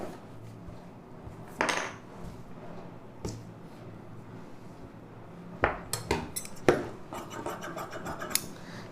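Scissors snipping through fabric for blouse piping strips, a few scattered crisp cuts and scratchy rubs near the table, quiet with gaps between strokes.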